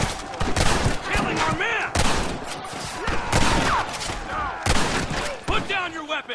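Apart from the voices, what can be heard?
gunfire in video game Red Dead Redemption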